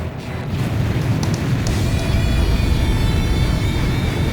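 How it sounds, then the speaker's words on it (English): The submarine Hrimfaxi launching a burst missile in the Ace Combat 5 video game produces a steady, loud rushing roar, like a rocket motor or jet blast, that builds slightly and holds without talk. "Hrimfaxi launching burst missile."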